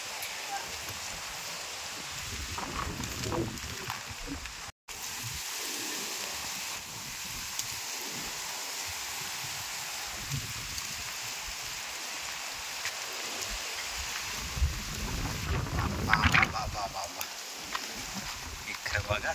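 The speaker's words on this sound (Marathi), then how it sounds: "वादळ बघा कसला सुटलेला आहे आणि धूल पण तितके उरते" Strong storm wind roars steadily outdoors among mango trees, blowing dust in a sudden gale, with a continuous loud rushing wash throughout and a brief dropout near five seconds.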